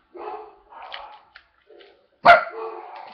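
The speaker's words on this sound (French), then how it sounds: "j'ai mon chien qui n'arrête pas d'aboyer" Pet dog named Lola barking at a stranger indoors, a few short barks and yips followed by a louder sharp bark, fairly close with quiet gaps between.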